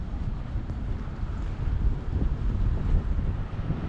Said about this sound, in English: It's windy today in Amersfoort.